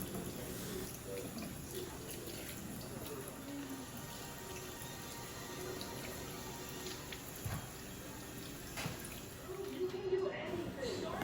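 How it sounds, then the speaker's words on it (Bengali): Tap water running steadily while plant pots are washed, a constant splashing hiss with occasional knocks and clatter of pots. "আর এখানে আমি সবগুলোকে ধুয়ে তারপর রেখে দিব আর কি।"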